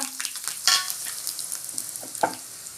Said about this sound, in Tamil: எண்ணெய் நல்லா சூடாகிடுச்சு இப்போ நம்ம கடுகு போட்டுக்கலாம் காஞ்ச மிளகா